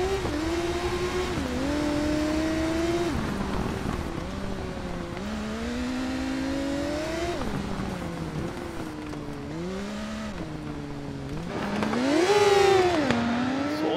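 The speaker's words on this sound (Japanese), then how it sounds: "軽やかに回るエンジン。" Motorcycle engine in the TT Isle of Man 2 racing game, revving high and smooth through repeated rising and falling gear shifts, loud and continuous, swelling to a peak near the end.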